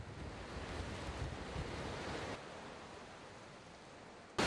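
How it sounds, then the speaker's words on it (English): Rough sea waves surge and crash during Hurricane Beryl, a dense continuous roar of surf mixed with gusting wind noise on the microphone, steady and loud without any voices. "this is the first time, even during a cyclone, that we've seen the sea as rough as this"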